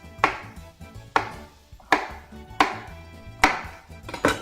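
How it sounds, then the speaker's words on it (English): Wild asparagus being chopped into chunks on a board, about six sharp knife strikes at a steady rhythm, close and clear, with no talking. "I'm just going to chop them into nice chunk size pieces"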